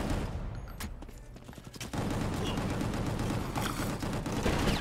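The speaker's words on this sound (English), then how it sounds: "Here's a rocket. Rocket to the face." Rocket fired in a video game amid dense, loud gunfire, with a sharp burst followed by a heavy, sustained rumble of explosions and rapid shots.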